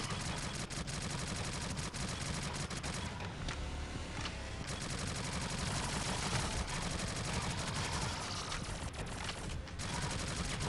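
Dense, continuous gunfire in the shooter game Shadowgun Legends, rapid automatic bursts layered over one another with barely a pause, loud and close for the whole stretch.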